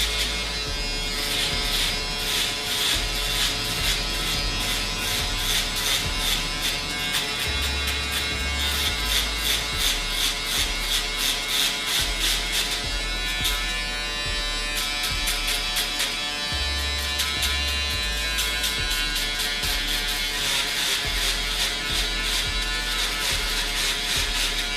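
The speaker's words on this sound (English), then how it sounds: "Now this clipper also gives a real nice, clean, friction-free shave if you don't like the razor blades at home" An Andis Pro-Foil electric foil shaver runs steadily through stubble, giving a close, continuous high buzz with slight shifts in pitch as it moves over the skin for the whole stretch, with no talking.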